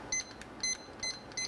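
A kitchen timer being set while cooking garlic chicken pasta gives four short, bright electronic beeps in quick succession, close and clear against quiet room tone.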